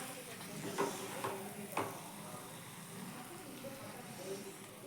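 Spices tempering in a little hot oil for a pundi palya dish make a soft, faint sizzle, with a few brief crackles and spatters early on.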